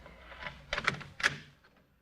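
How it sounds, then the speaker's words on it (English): An apartment door being opened with a pass key in an old-time radio drama: a short metallic rattle and clicks of the key and latch, then a couple of light knocks of the door moving, fairly quiet. "Open the door, will you?"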